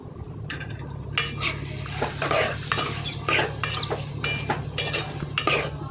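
Mutton with water and turmeric being stirred in a pan, giving a steady sizzle broken by repeated scraping strokes of the spoon, close and fairly loud throughout.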